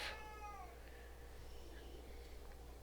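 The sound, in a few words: cat meowing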